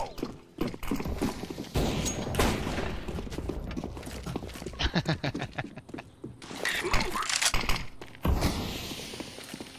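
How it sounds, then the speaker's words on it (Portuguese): Competitive shooter gameplay with a flashbang grenade thrown, bursts of sharp impacts and gunfire-like cracks scattered through the stretch, among footsteps and other game noise. "Throwing a flashbang."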